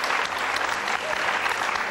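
Studio audience applause on a Bulgarian television talk show, a dense continuous wash of many hands clapping at steady loudness for the whole stretch.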